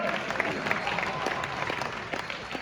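Audience applause at a stand-up comedy show, a dense steady wash of many hands clapping throughout, fairly loud and continuous with no break.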